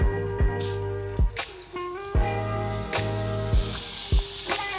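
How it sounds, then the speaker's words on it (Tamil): Butter sizzles in a hot pan, a continuous close frying hiss broken by a few sharp knocks and clatters. "இப்போ வந்து இது கொஞ்சம் பட்டர் போட்டுருவோம்"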